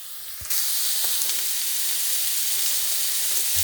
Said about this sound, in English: And now I'm stirring in the pan the carrots and then the beans because they're the longest to cook